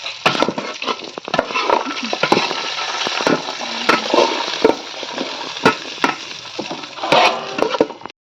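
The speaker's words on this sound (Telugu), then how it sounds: "గోల్డెన్ కలర్ అంత వచ్చే వరకు వేయించుకోవాలి." Semolina being stirred and fried in ghee in a pan for pineapple kesari, with steady close scraping and sizzling broken by sharp clicks of the spoon against the pan, and no talk.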